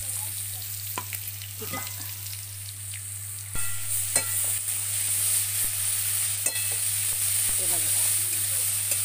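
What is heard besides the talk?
onion and coconut-coriander-garlic masala frying in a pan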